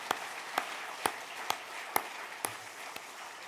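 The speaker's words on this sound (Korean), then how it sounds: "모든 영광 하나님께 박수로 올려드리겠습니다" Church congregation clapping during a Sunday thanksgiving service, seven sharp, evenly spaced claps about half a second apart, heard as distinct crisp beats against a quiet room with a faint hum beneath.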